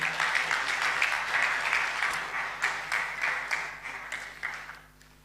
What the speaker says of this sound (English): Let's applaud her once again.